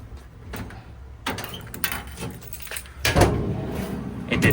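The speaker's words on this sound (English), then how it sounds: "Now I just got to see if it'll close and lock. So keys are in it. I'm gonna push on this." A tool box drawer on ball bearing slides rolls shut with a rumbling slide, clicks and a firmer thud near the end, while keys hanging in the lock jangle lightly throughout.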